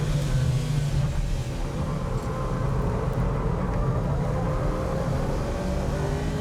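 Racing car engines in an anime race, a Subaru Impreza tailing a Mitsubishi Evo, roaring steadily and loudly throughout with a dense, continuous drone and no break.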